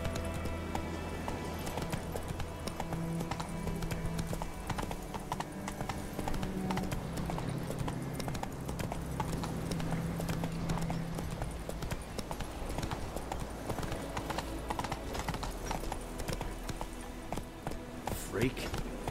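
Roach, a horse in The Witcher 3, gallops in a fast, steady clip-clop of hooves that runs throughout, with a rider's voice speaking over it now and then.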